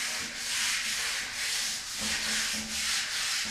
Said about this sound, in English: Alright, so I found some 180 grit sandpaper. Let's go over it with this.